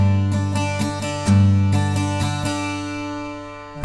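Guitar strumming for a song, each bar opening on a low bass note before quicker strums across the higher strings, close, ringing and unaccompanied.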